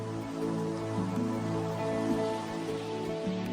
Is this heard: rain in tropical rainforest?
yes